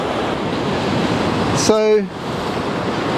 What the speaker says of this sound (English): as the waves come in, they are washing sand and gravel up onto the beach